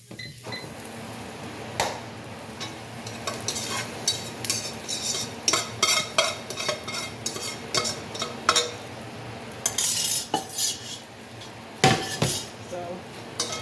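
A stovetop pressure cooker pot pulled out and handled in a home kitchen, giving a run of close metallic clanks and scrapes with a few sharper knocks against a low background hum.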